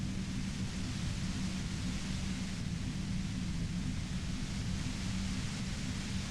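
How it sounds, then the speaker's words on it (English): Steady radio white noise from the video game Disco Elysium hisses continuously and fairly loudly, a dense unchanging static with no voices. "You hear through the white noise. It's especially bad suddenly."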